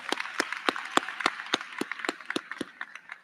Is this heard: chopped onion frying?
no